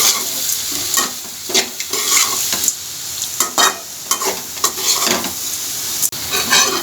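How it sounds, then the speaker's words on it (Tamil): Raw jackfruit pieces being stirred into onions frying in a pan, with a steady sizzle broken by repeated scraping strokes of a spoon, close and fairly loud, no talking. "இப்போ உதுத்து வச்ச பலாக்காயை இதில் போட்டு மிக்ஸ் பண்ணிடுவோம்."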